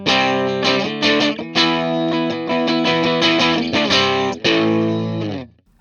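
A Japanese-made Fender Strat runs through an amp modeler with the gain turned up for crunch. Distorted strummed chords and ringing notes play steadily and loud for several seconds, then fade out.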